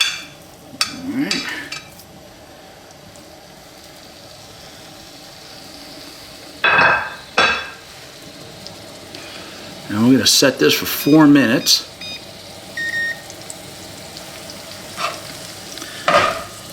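Blackened chicken breasts sizzle and fry in a hot pan, the steady hiss broken by a few louder bursts of stirring or handling, with a person talking over it.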